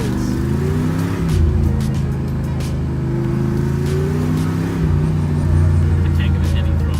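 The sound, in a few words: classic Ford Mustang engine running with throttle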